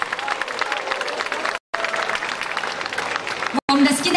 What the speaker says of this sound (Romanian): Vă rog să-i aplaudați și să-i încurajați.